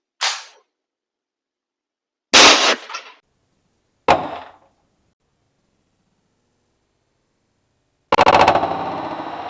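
An Umarex HDR 68 revolver firing steel balls, four sharp separate cracks with short ringing decays spaced by silence, the last one louder with a buzzing tail.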